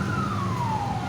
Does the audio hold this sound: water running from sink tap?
no